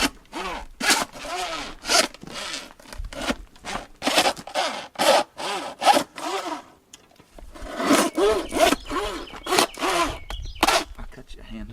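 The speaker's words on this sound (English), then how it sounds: "I'm going to take the saw and I'm going to just come here beside the rib cage" A saw cuts beef ribs away from the backbone of a salvaged carcass in rhythmic, raspy back-and-forth strokes close by, with a pause midway before the sawing resumes.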